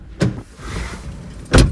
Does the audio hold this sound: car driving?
yes